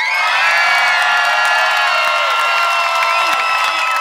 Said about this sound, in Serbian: ako bi mogli sa vrištanjem i aplauzom da ispratimo ove momke